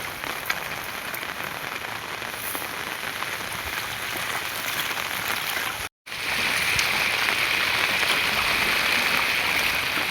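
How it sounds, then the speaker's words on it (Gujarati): Dense, steady rainfall hisses over flooded farmland and a road with water running across it, continuous and fairly loud apart from a brief dropout near the middle. "ફૂલ વરસાદો"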